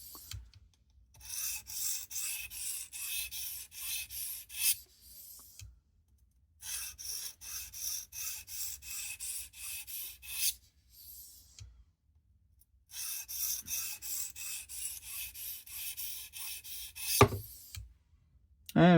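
A knife blade is sharpened on a Tsprof Pioneer guided sharpening system, making soft, rapid, rhythmic rasping strokes in three long runs separated by quiet pauses, close and fairly faint.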